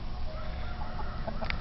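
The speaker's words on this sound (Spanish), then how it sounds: "Los gallos se enfrentan, cada uno quiere su territorio" Roosters clucking in a farmyard face-off over territory: a few short clucks and calls rise over steady, noisy outdoor background, fairly faint and close together, with no talk.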